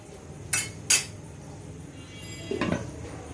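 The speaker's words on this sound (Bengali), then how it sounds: "আমরা এখন ঢেকে দিব" A lid set onto a cooking pot of liver curry: two sharp metallic clinks close together, then a softer rattling clatter as it settles, close and clear over a quiet kitchen hum.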